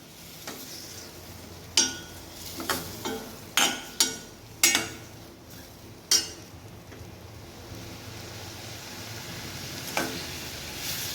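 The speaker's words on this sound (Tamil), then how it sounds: "ஆனால் சிகப்பாக வர வரைக்கும் நல்லா வணக்கணும்." Ingredients for a Tamil paarai fish curry fry in a pan with a soft continuous sizzle, punctuated by several sharp clinks and scrapes of a spoon stirring against the pan.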